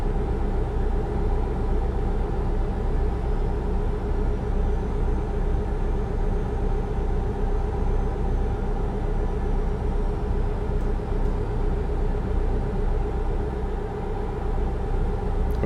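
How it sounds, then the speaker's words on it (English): A steady, continuous road rumble of truck tires rolling on pavement in American Truck Simulator, with the engine barely noticeable underneath, unchanging throughout. "basically what I hear is the tires on the road"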